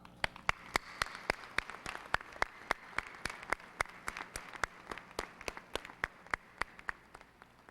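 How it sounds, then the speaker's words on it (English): Sparse, spread-out clapping from a 1999 Eisenhower High School graduation audience, individual sharp claps ringing out in an irregular rhythm rather than a dense roar, moderately faint in a large room. "give those who have raised us and our parents a well-deserved thank you with a round of applause"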